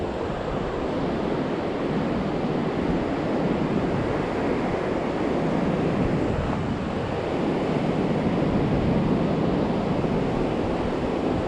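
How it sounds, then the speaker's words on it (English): Pacific Ocean surf roars on a beach, a loud, continuous broadband rumble with wind buffeting the microphone and no voices. "That loud roaring you hear, that, my friends, is the sound of the ocean."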